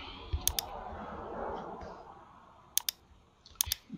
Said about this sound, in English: You just click on it.